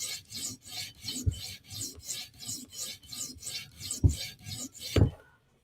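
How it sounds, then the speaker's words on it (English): The tip of a custom Para 3 knife is drawn across a sharpening stone on a TSProf Kadet, producing a steady rhythmic rasping of about a dozen even strokes, close and dry, ending with a couple of heavier knocks. "So that's how I'm sharpening the tip."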